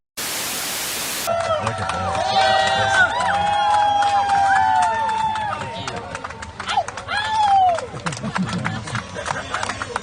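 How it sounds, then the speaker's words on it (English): A large crowd gathers at a political rally, with a dense, continuous murmur of voices and shouts heard from close by, and people talking nearby over it. "There's a huge crowd waiting for you."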